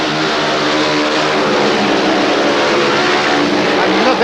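Speedway motorcycles race flat out with throttles wide open during a 1977 team final, a continuous loud engine roar with several machines blending together.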